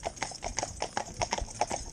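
Hooves of two Friesian horses clip-clop in a quick, overlapping rhythm on a hard road near the curb, close and clear.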